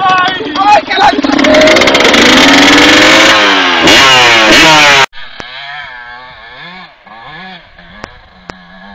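A Yamaha 125 motorcycle climbing a hill in Póvoa revs loud and close with a rising, straining roar for about five seconds, then cuts to a quieter, steadier engine note with a few sharp clicks.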